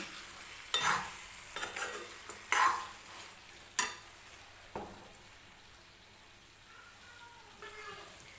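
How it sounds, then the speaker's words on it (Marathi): Sukka mutton being stirred in a pan, a few separate scraping strokes of the spoon over a soft, steady sizzle of frying, close and clear, with the sizzle carrying on alone afterward. "आणि व्यवस्थित आपल्याला हे मिक्स करून घ्यायचं आहे सुक्कं मटण."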